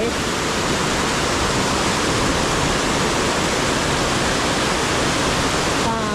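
Doi Thule waterfall roars as a loud, unbroken wash of falling water, close and steady throughout, with no voices heard over it.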